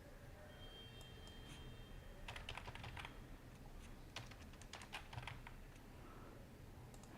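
Keys clatter on a computer keyboard as a short word is typed, a quick burst of soft close clicks in the middle of the stretch, faint and alone over a quiet room.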